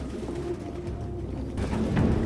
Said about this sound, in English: Goddamn fucking pigeons!